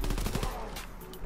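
Rapid gunfire from a machine pistol in Call of Duty WW2 Nazi Zombies, a loud fast burst of shots across about a second that tails off into reverberation.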